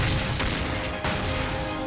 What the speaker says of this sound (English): The Germans respond with ferocious firepower.